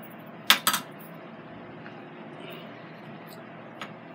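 A metal tablespoon clatters against other utensils while jerk seasoning is measured: two quick sharp clinks close together near the start, then a faint tap later, over a quiet kitchen background.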